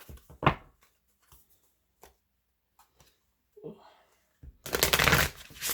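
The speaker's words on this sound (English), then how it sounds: "Now I'm going to choose a couple of the Dreams of Gaia tarot." Dreams of Gaia tarot cards being handled and shuffled: a few soft riffling flicks and taps, then a louder, sustained riffle near the end, with a voice speaking briefly in between.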